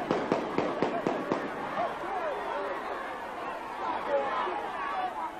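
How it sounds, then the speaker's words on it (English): Gunfire after a victory in Tivoli Gardens, Kingston: a quick string of sharp cracking pops, then crowd chatter and excited voices that carry on under the noise. "A victory for Tivoli, yet another excuse for gunfire."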